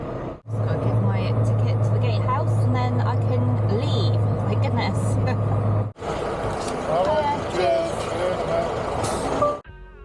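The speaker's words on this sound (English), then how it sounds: "I make my way out of the docks, being as quiet as I can in a lorry" A lorry rumbles along as it pulls out of the docks, a steady low engine drone with a brief hiss of air brakes, then a pause and road noise as a voice talks over it.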